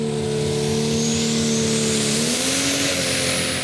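The Diesel Ross pulling tractor from Belgium at a European tractor pulling championship in Brande, Denmark, gives a loud, sustained engine roar that holds steady, then shifts pitch partway through, with no talk over it.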